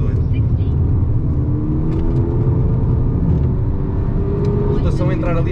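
A Volkswagen Golf MK6 GTI Edition 35 engine revs hard toward 7000 rpm, a loud, close whirring drone with rising engine tones, while someone talks over it.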